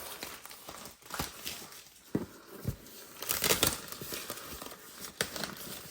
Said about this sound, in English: Taking off the paper.